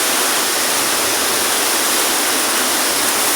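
The Kammar river rushes with big waves, a loud, steady, close roar of churning water that does not let up from start to finish and has no voices over it.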